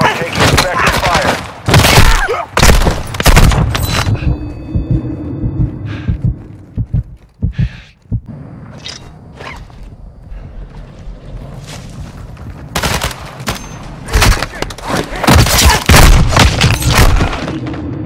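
Gunfire and heavy impacts in Call of Duty MW2 DMZ, loud booming bursts and rattling shots that come in clusters, easing briefly in the middle before resuming at full strength, with game voice lines mixed in.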